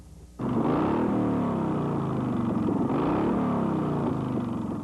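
A big Harley motorcycle engine fires up abruptly and then revs loudly and steadily, with rising and falling throttle swells heard close by, alone and without talk.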